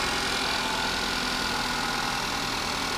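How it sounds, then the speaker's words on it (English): A 2015 Chevy Malibu's EcoTec engine idles high just after a cold start, a steady close hum with a constant mechanical whir under the open hood and no voices. "Here's that EcoTech engine."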